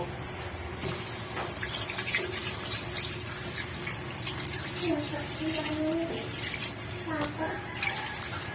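Second-press coconut milk is poured into a cooking pot of jackfruit, a soft continuous liquid pour and splash heard close, with a person speaking over it throughout.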